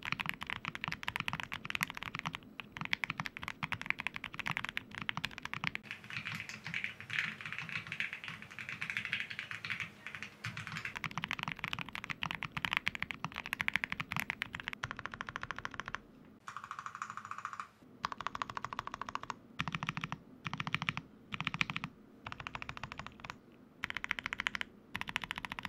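Typing on a freshly built budget custom mechanical keyboard, a rapid run of crisp clacky keystrokes with brief pauses and bursts, close up and alone.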